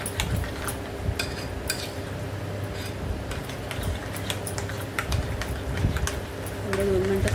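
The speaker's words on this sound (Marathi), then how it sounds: "सर्व व्यवस्थित मिक्स करूया याला" A spoon stirring and beating corn appe batter in a bowl, giving a steady scraping and clinking texture with irregular ticks of utensil against the bowl, heard under someone talking.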